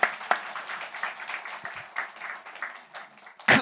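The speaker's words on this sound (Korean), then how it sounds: "우리 어른 세대들을 여러분 격려의 축복의 박수 한번 쳐드릴까요" A church congregation claps in unison for a Sunday service, a steady rolling applause from a large room that fades slightly then ends in a louder burst.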